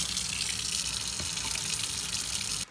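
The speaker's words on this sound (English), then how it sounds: "now I'm gonna put some water in here" Water pours steadily from a container into cups of egg incubation substrate for sulcata tortoise eggs, a close, continuous splashing flow that cuts off abruptly at the end.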